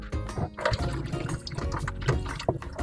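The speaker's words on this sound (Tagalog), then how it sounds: "Ito yung pinaghugasan ng bigas, itatapon natin to." Cloudy rice washing water splashes and trickles out of a pot as it is poured away, a short close-up liquid pour with gurgling over a few seconds.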